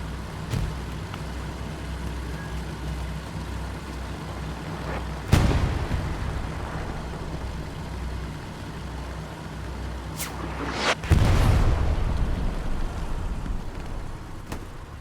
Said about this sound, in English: Gore with another satchel, this time on the medium tank.